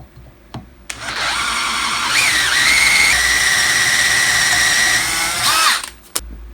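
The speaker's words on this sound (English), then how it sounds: "Right, let's open it up and start tapping the holes." A power tool whines up to speed while threaded holes are tapped in metal, a steady high-pitched motor tone holding for a few seconds with slight pitch shifts before spinning down, preceded and followed by sharp clicks.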